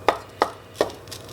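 A wooden spoon squishing blackberries as they simmer into jam, heard as three distinct taps against the pot, evenly spaced about half a second apart, close and fairly soft, with no voices.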